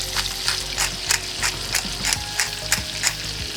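Butter melting and sizzling in a pan while a salmon dish is cooked, a continuous close hiss with soft rhythmic scraping and stirring bumps throughout, no speech.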